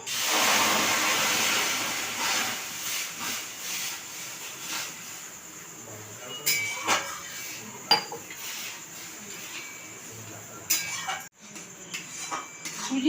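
Water poured into a hot pan with carrot filling hisses and sizzles loudly at first, settling into steady steam and bubbling with occasional metal clinks of a spoon, close up and without talk.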